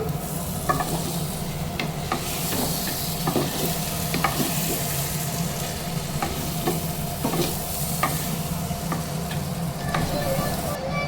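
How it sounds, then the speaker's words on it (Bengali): A spoon stirs chicken and fried potatoes through simmering khichudi in a pot, giving repeated scraping strokes and soft clinks over a continuous bubbling sizzle, close and steady, with no voices. "ভালো করে নাড়াচাড়া করে নেব।"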